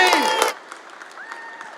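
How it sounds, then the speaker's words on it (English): Brief burst of applause from an audience at a coffee competition semi-final, loud clapping for half a second that quickly drops to faint background noise and murmur. "round of applause,"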